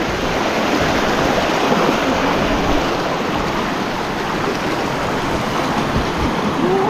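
A Filipino river where two streams meet rushes in a steady, close, full-bodied flow of churning water that stays even throughout.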